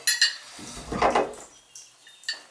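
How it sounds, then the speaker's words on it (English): Metallic clinks and rattles from a Symmons shower valve handle with weak hot water flow being worked back and forth, a few sharp knocks then a dull scraping rattle, close up with no talking. "Sometimes you gotta work the handle."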